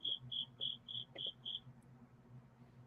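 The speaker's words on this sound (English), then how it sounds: "Who got the crickets?" A pet cricket chirps in a quick, even series of about six shrill pulses, then falls silent. The sound is faint and high-pitched against a quiet indoor background.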